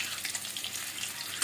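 Eggs frying in a pan on the stove for a tomato and eggplant egg curry, a soft continuous sizzle with faint crackles and no talking.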